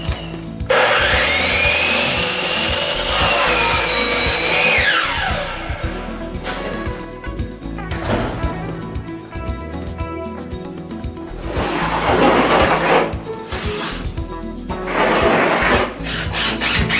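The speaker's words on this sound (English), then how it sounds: "We'll cut this down like we did this beam, and we'll set this across the top." A wooden beam is cut for wine room cabinetry, first with a loud high power-tool whine for several seconds, then rough rubbing and rasping cuts, with a second harsh burst of sawing later, close up and without talking.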